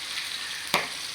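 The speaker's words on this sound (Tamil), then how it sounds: "கருவேப்பிலை ஆயிலில் போட்டு அதில் தாங்க மீனை வந்து ஃப்ரை பண்ணியிருக்கிறோம்" Neymathi sardine fish fries in oil with curry leaves, giving a steady close hiss of sizzling broken by one brief crackling pop.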